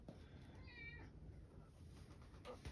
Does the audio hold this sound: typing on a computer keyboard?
no